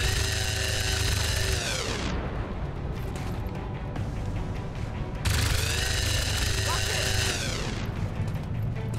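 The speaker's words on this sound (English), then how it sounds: "Let's flashbang these now." A flashbang grenade goes off in XCOM 2 with two loud, ringing blasts, each trailing into a sweeping, fading tone over steady rumbling game noise.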